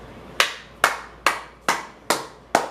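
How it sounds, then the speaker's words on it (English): A single person claps six times in an even, unhurried rhythm, each clap sharp and close, with no talking over it. "Round of applause"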